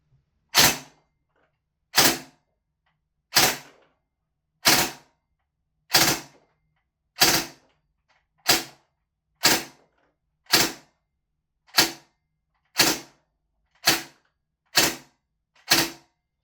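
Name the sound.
VFC M249 gas blowback airsoft gun firing 0.3 gram BBs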